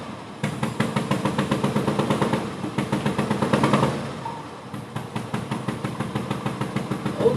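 Motorcycle engine heard steadily with a rapid, rhythmic thumping pulse, rising and falling in level as if moving nearby, with no voices.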